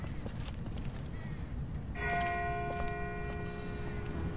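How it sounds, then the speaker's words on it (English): A distant bell rings in The Walking Dead video game, its sustained tone sounding far off against a steady background rumble. "That's not the same bell as before. This one's further off."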